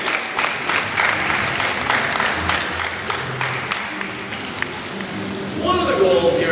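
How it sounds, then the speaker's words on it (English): An aquarium audience claps for a dolphin show, a dense round of applause holding steady for several seconds before crowd noise and a voice swell near the end. "let's have a round of applause for the Dolphins."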